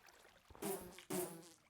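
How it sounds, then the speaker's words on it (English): A bee buzzing in flight, two loud close passes each lasting about half a second, with quieter background between them and no talking. "Bee, what are you doing?"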